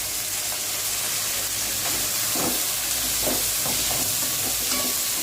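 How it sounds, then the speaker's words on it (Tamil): Chopped cluster beans and grated coconut saute in oil, giving a loud, continuous close hiss and sizzle with occasional soft stirring scrapes and no voices. "இப்போ இது எல்லாம் எண்ணெயில் நல்லா வதங்கணும்"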